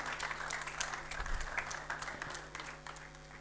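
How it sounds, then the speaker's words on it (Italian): Applause from the audience at a sports awards ceremony welcoming a footballer winner to the stage: moderate, fairly distant clapping from many hands, steady throughout with a low hum underneath. "Accogliamolo con un applauso"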